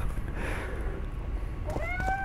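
A cat meowing in the game The Witcher 2: Assassins of Kings, a single short, clear mew near the end over a low steady ambient background.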